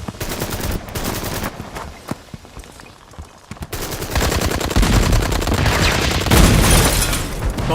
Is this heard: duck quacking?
no